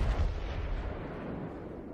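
Main guns of the New Mexico battleship firing in World of Warships, a loud booming blast with a deep rumbling tail that slowly fades over two seconds.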